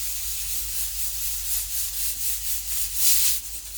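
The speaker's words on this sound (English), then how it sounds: "I'm going to go ahead and peel the yam and the cocoa" Yam and cocoyam are peeled by hand with a knife, giving a close, repeated rhythmic scraping and rubbing sound in soft strokes, with no talking.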